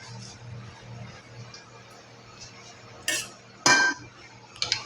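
Metal pot and utensil clatter as water spinach goes into a simmering shrimp sinigang, with quiet stirring clinks building to two sharp bursts of clanking near the end, no voices.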